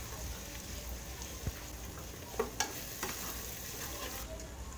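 Chopped onion with ginger-garlic paste frying in a pan as turmeric powder is added for a village chicken curry, a steady close sizzle with a few sharp stirring clicks and spatula knocks, no voices.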